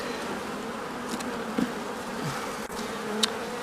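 Honey bees from a swarm buzz around wooden hive frames, a dense, steady droning hum close by with a few individual insects zipping past, and no talking.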